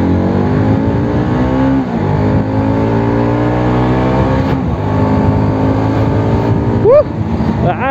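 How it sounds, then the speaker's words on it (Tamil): A Bajaj Pulsar NS200 motorcycle accelerates on an empty road, its loud exhaust note rising in pitch through rapid revs and gear changes, heard up close with engine tones sweeping upward. "சவுண்டுலேருந்து எல்லாம் எக்ஸாஸ்ட் நோட் வரைக்கும் எல்லாம் வேறு லெவலில் இருக்குது வண்டி"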